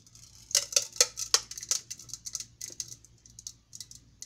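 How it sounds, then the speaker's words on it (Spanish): Liquid custard cream poured over hot caramel lining a mold for quesillo, producing a brief burst of sharp, crackling ticks and sizzles up close that thin out into scattered faint clicks. "Suena así porque la crema es líquida, está suave."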